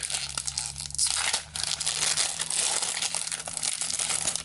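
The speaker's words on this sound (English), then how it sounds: "let's rip a pack of the Ken Kelly sticker sheet here, Fantasy Art stickers" A Ken Kelly Fantasy Art sticker pack is ripped open close up, with crisp tearing and crinkling of the wrapper in several short bursts and rustles.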